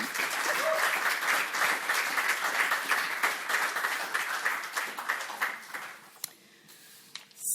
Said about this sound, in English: I think you can give them already now a small clap.